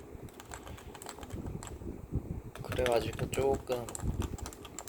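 Keys clack on a Topre Type Heaven keyboard with 45g switches, close and irregular, mixed with someone talking in Korean over the second half.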